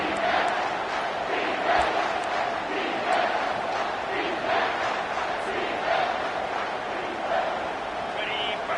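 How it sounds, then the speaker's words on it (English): A stadium crowd roars through a football third down on defense, forming a steady, dense wash of massed voices that stays loud and fairly even from start to finish. "Decibels rising as the crowd gets behind this defense on third down."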